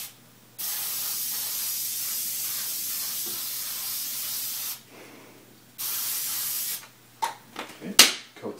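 Cooking spray hisses onto a pancake skillet in two long, steady bursts with a short pause between, followed by a few quick clicks and rattles as the can is handled.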